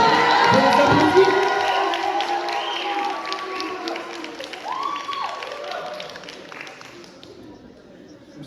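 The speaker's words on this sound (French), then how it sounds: "On peut les applaudir." At a back-to-school gathering, students cheer, shout and clap for the class that won a football match. A loud burst of crowd noise opens, then the cheering gradually fades over several seconds.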